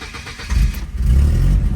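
A 1991 Volvo 740 wagon with its check engine light on cranks and catches, the engine rumbling up in low, rough surges that rise and settle over a couple of seconds.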